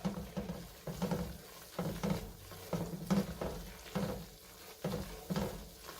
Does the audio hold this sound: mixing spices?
yes